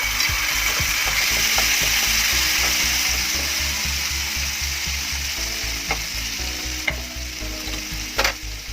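Pav bhaji masala fries in hot butter and oil, giving a steady loud sizzle with scraping and stirring clicks from a spatula throughout, close up with no talk.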